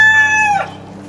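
A rooster crows in a garden where raised beds are being built, a loud, close, drawn-out harmonic call that rises and then trails off under a low steady background hum.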